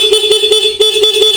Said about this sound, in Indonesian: Klakson pun menyala, Pak.